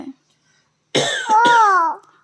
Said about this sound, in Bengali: পেশেন্টের কাশি হচ্ছে দেখো দেখো চেক করো চেক করো